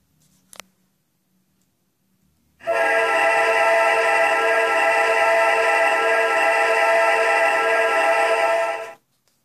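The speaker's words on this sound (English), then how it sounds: "This is an EMD SD40-2 Norfolk Southern number" A Norfolk Southern EMD SD40-2 locomotive horn in the Trainz train simulator game blows one loud, steady multi-tone chord for about six seconds after a near-silent start, then cuts off cleanly.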